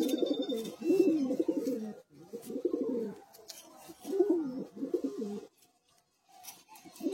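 Pigeons coo in repeated throaty bursts, several rolling calls close by with short pauses between, then a brief near-silence before the cooing resumes.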